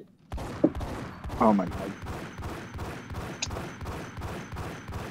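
Rapid, sustained enemy gunfire in the Max Payne video game, dense repeated bursts running through nearly the whole stretch, with a shocked voice exclaiming briefly early on.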